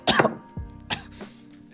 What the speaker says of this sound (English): did you cough?